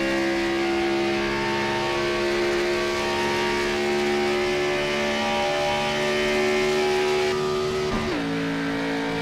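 A NASCAR Xfinity Series race car in a racing video game accelerates hard out of pit exit, its engine note climbing steadily through the gears with a sharp upshift near the end, loud and close throughout.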